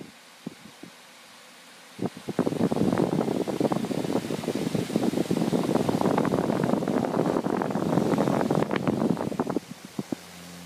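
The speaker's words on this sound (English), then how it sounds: "It was a little homemade fan that I built out of nothing but cardboard and a little electric motor" A small homemade fan with cardboard blades and a little electric motor starts after a few faint clicks, then runs steadily with a close, whirring, fluttering drone for about seven seconds before cutting out.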